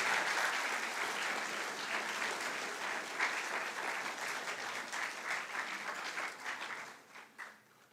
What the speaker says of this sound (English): give a warm applause to our dear parents